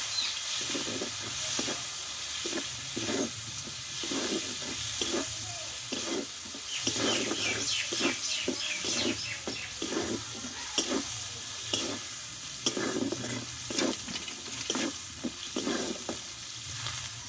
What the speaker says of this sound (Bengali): আদার সঙ্গে টমেটোটা ভালোভাবে কষে নেবো আমি